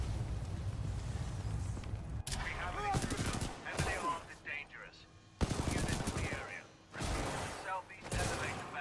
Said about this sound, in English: Activating turrets at southeast corridor.